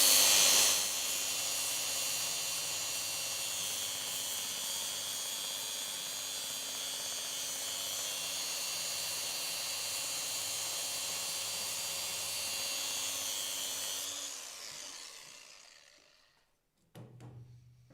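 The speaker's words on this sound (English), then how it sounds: "tube sander is going to be used on that one" A tube sander fitted with a coated abrasive belt grinds down a welding seam, giving a steady, bright hissing whine for about fourteen seconds before it spins down and stops, followed by a faint knock.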